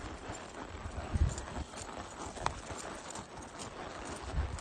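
Horse hooves clip-clop at a steady walking rhythm while riding through a neighbor's grassy pasture, soft and close over faint wind, with a couple of heavier thuds along the way.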